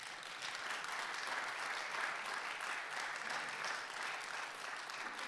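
Sustained applause from a church congregation blessing members of the building management committee, steady and even throughout, a broad wash of clapping with no voices on top.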